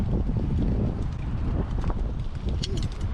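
Wind buffeting a microphone aboard a fishing boat on Donner Lake, a steady, loud rushing with gusty fluctuations and faint knocks.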